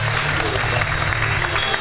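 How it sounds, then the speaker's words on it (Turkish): A studio audience at a televised talk show claps in a continuous crisp patter, fairly loud and sustained, with a voice faintly present beneath it. "Erkekleri alkışlatmıyor musunuz?"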